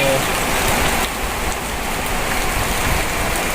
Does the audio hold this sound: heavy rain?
yes